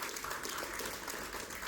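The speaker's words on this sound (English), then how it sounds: "a big round of applause for the musicians of the tabla" Audience applause for the tabla, flute and keyboard musicians at a live concert in Lahore, a dense, even patter of many hands clapping throughout the brief moment.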